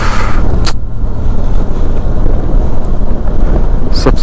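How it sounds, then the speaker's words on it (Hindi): A motorcycle that is struggling and will not pick up speed, ridden on the road to Bangus Valley in Kupwara, makes a loud, steady engine drone mixed with heavy wind buffeting on the microphone throughout. "नहीं चल रही है बाइक, पिकअप ही नहीं ले रही है"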